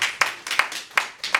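A few hands clapping at a city council meeting in East Cleveland, a sparse, slightly uneven rhythm of sharp claps in a room, moderately close.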